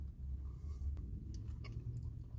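Chocolate-covered marshmallow fish, a New Zealand snack, being chewed, with soft close-up mastication sounds that are quiet and brief, alone.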